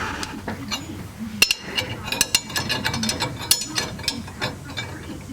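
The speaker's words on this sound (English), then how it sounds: "I'm just using a puller here because this is pressed on to the pinion" Gear puller working a pressed-on pinion yoke off a 1966 Buick Riviera, giving irregular metallic ratchet clicks and sharp clinks over low mechanical rumble, moderately loud and close, with no talk.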